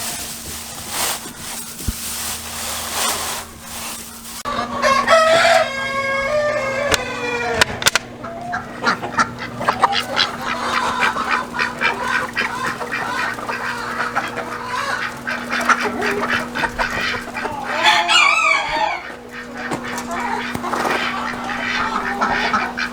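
Backyard poultry penned on a hot-weather homestead, giving a steady stream of clucks, honks and quacking calls up close, with a constant low hum running underneath.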